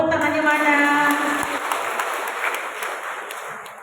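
An audience at a school meeting breaks into applause after a brief spoken voice, the dense clapping rising quickly and then thinning and fading over a few seconds.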